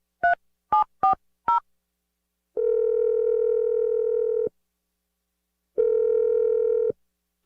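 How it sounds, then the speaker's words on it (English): Four quick telephone dialing tones, followed by two long steady ringback tones separated by silence, clear and close with no voices. "I'm going to dial Adam's phone number right now."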